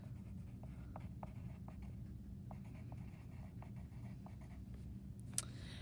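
Quiet, rhythmic scratches of a pen or marker writing labels on a lecture diagram, a string of short strokes over a low background hum, ending with a slightly sharper tap.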